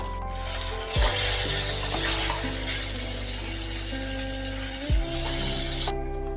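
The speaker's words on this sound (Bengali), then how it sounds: "এবার গ্যাসের ফ্লেমকে যথারীতি একেবারে হাইতে করে একটু এদিক ওদিক করে বেগুনগুলো নামিয়ে দেবো।" Eggplant frying in oil over a high gas flame, a steady close sizzle with some stirring, layered over a persistent low electrical hum that dips twice, no speech.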